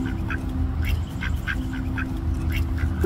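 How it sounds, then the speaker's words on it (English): Two domesticated geese at a park pond give short, nasal honking calls, several spaced bursts over a steady low background rumble, fairly close and with no talking. "Goose and Beatrice, they're two domesticated geese."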